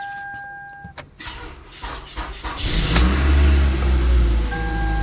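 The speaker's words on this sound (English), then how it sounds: "so should be able to start the car now." Toyota Camry engine cranking and starting after key programming, brief starter whir followed by the engine catching and settling into a loud, close idle, with a chime-like tone at the start and end.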